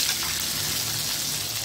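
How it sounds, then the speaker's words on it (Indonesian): Tofu coated in batter fries in hot oil, a loud, steady hissing and bubbling with a broad, washing texture that holds evenly throughout. "Ini digoreng kembali sampai kering lagi"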